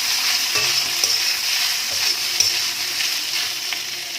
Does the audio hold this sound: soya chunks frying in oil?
yes